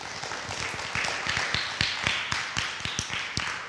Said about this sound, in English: Everybody give him a round of applause.